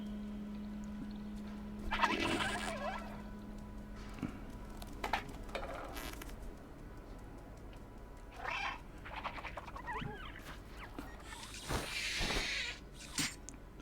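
A stray cat meows several times, drawn-out wavering cries that come and go across the stretch against quiet room noise, with a steady low hum early on.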